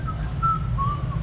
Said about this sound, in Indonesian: Tapi kan di jazz juga ada siul-siul ya?